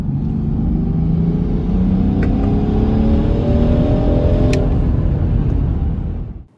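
A 2020 Land Rover Defender 110 P400's sustained, loud engine roar builds steadily under acceleration with a rushing, whooshing intake sound through the snorkel, then cuts off abruptly.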